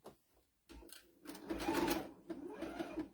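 Home sewing machine stitching a jean cathedral-window quilt, a steady mechanical whirr that starts after a quiet moment, speeds up and runs close and fairly loud with brief dips.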